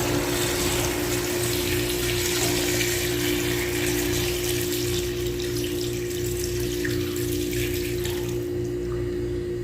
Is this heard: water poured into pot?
yes